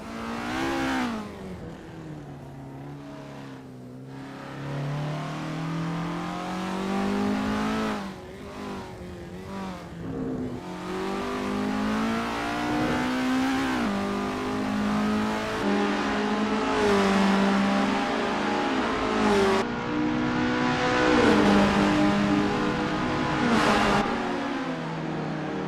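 Isuzu Bellett GTR race car in Assetto Corsa on the Knutstorp circuit during a practice out-lap, its engine droning and rising through the revs, shifting gears repeatedly, steady and close for the whole stretch.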